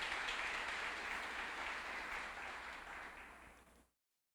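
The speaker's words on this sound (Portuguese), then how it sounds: "Vou dar uma salva de palmas para você mesmo." Church congregation applauding during a celebration service, a broad wash of clapping that fades gradually and stops abruptly, fairly faint overall.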